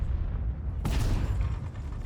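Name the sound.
tank gun firing in World of Tanks video game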